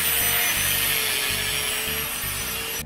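A custom crash bar for a Subaru Impreza ice-racing car is trimmed with a power tool, a loud continuous harsh grinding rasp that holds steady for a few seconds before stopping abruptly.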